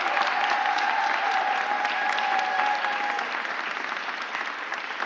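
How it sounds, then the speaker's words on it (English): Audience applause at a mayor's press conference announcing a new commissioner, steady and fairly close, fading slightly toward the end, with no talk over it. "Give her a round of applause."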